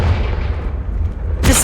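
A Confringo fire blast spell in Hogwarts Legacy booms out as a low rumbling blast with a sharp, bright burst near the end, loud and close, with no speech.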